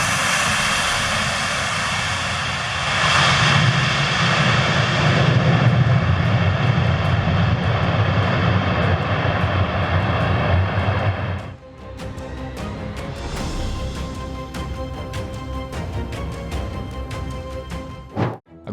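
Airplane landing: a loud, sustained engine roar with heavy low rumble that swells for several seconds, then cuts to quieter, rattling cabin and mechanical noise with faint clicks; no talking.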